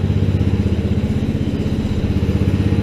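A Polaris 120 engine idles close by, a loud, steady, rapid putter with an even pulsing beat and a slight clatter, and no one speaking.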